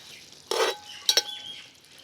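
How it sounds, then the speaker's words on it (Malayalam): A spoon stirring chicken curry with tomatoes in a pot, giving a scrape followed by two quick metallic clinks, close and fairly quiet with no talking. "ചെറുതായിട്ടൊന്ന് ഇളക്കി കൊടുക്കുക."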